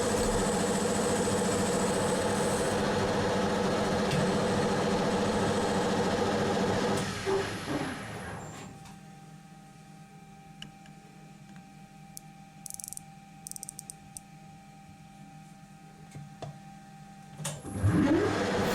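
A lathe machines a two-part combination gear for a welding positioner at high speed with a very low cut, giving a steady whirring hum that stops partway through, leaving faint clicks and workshop quiet before a brief knock near the end.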